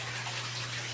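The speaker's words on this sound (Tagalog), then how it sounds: "So babasain niya, tapos i-drain yung tubig sa baba." Water rushing and gurgling steadily as it drains out of a flood-and-drain aquaponics grow bed growing strawberries, with a low constant pump hum underneath.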